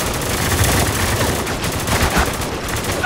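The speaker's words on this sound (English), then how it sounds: "Hurry, we're taking heavy fire!" Heavy automatic gunfire in the shooter game Spec Ops: The Line, dense overlapping bursts rattling loud and close without pause, with no voices over them.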